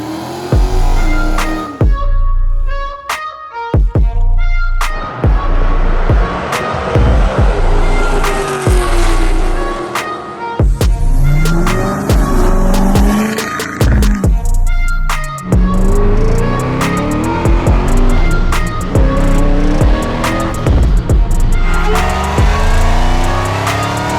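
A turbocharged Honda Civic with a full 3-inch downpipe and exhaust and an Evil Energy muffler starts up and revs, loud and close, its raspy engine note rising and falling through repeated throttle blips and sharp pops with no talking.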